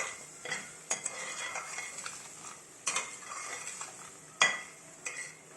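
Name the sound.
roasting semolina and gram flour halwa with butter in pan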